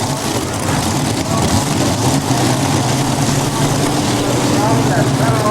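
Modified pulling tractor powered by three Chevy engines at a 1994 NTPA tractor pull in Fort Recovery, Ohio, a dense continuous engine roar at a distance with an announcer talking over it.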